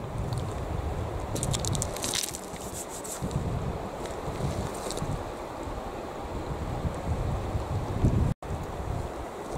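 Steady wind buffets the microphone with low rumbling gusts outdoors during a cigar tasting, broken by brief hissing bursts, and no voices are heard.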